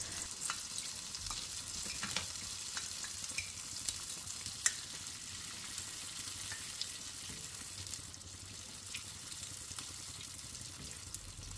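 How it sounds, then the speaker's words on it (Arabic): Sfenj dough frying in hot oil with a steady, even hiss and crackle across the whole stretch, dotted with small pops and bubbling, quiet and continuous, with no voices. "كتخليو الشفنجه ديالكم حتى كتشد راسها وكتوضعوها هكايا في الزيت اللي كيكون مرتفع"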